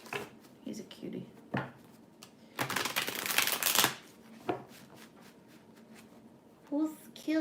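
Deck of playing cards shuffled indoors, a dense riffle burst in the middle framed by lighter card handling, with voices talking around it.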